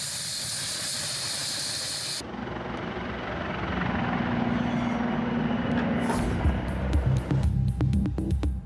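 Helicopter in flight, a steady broadband rotor and engine roar that swells and stays loud, with a short hiss at the start and sharp clicks near the end.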